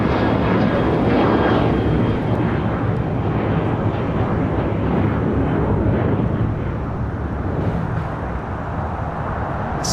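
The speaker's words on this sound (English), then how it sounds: "That was American Airlines Flight 2388 heading to Las Vegas in the 737-800." An American Airlines Boeing 737-800 jet bound for Las Vegas roars past at LAX, a loud broad rumble that stays strong for several seconds before slowly easing off.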